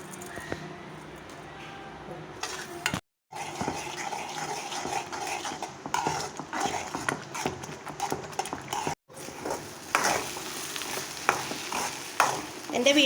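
Roasted semolina and vermicelli are stirred into boiling water for upma, giving a scraping, sloshing stir with frequent scuffs and two brief silent breaks, close and moderately loud.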